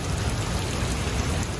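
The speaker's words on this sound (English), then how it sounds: "Just nothing but rain and wind." Heavy rain pours down with wind during flooding at a beachside fishpond house in Davao Province, a dense, loud, steady hiss of drops drumming on surfaces with no break or voices.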